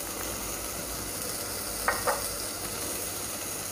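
Ground spices, including garam masala, turmeric, red chili and coriander powder, are stir-fried in a pan for masoor pulao, making a continuous close sizzle with two short scrapes of a spatula partway through.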